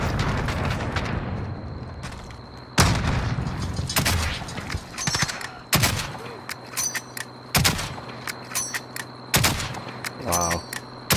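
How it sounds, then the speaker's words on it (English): Video game gunfire from repeated rapid shooting, sharp loud bursts at irregular intervals over a steady background hum, with a voice speaking briefly in between. "I'm just spamming shooting."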